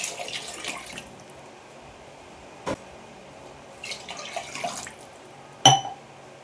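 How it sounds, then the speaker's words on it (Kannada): Water splashes and trickles into a cooking pot for rice in short bursts, with a sharp clink of metal or glass near the end; no voices. "ಇವಾಗ 3 ಗ್ಲಾಸಷ್ಟು ನೀರು ಹಾಕ್ಕೊತೀನಂತೆ"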